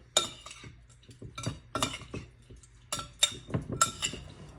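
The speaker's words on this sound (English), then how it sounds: "Give it a stir." Utensil scraping and clinking against a pan while stirring spicy squash pasta, a series of close, irregular metallic scrapes and taps repeating every half second or so, with no talking.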